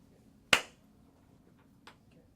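One sharp hand clap marking the start of an interview take, loud and close in a quiet room, followed about a second later by a much fainter click.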